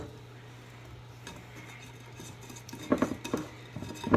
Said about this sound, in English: Mix half of the wet and the dry ingredients in with the wet ingredients.